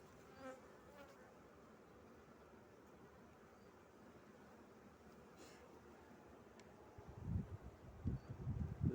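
Steady, faint buzzing of many bees in a busy swarm, with some closer, louder buzzing and handling sounds near the end.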